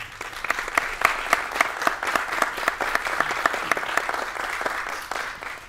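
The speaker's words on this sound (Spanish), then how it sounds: "recibamos con un fuerte aplauso" Steady applause from an audience welcoming a speaker at an academic talk, a dense wash of clapping that holds at an even level throughout.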